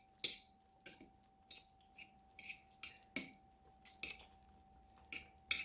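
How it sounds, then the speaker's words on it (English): Slow-cooked crock pot chicken being pulled apart with forks gives soft wet squishes and light scraping clicks, spaced irregularly about once a second, close and quiet with no talk. "we're gonna break this up and just shred this as much as possible."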